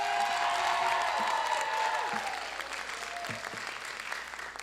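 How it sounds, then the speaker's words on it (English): Applause at a marching band banquet, dense clapping that slowly thins out, with a voice speaking briefly over the tail end. "one more round of applause for Mr. Serial"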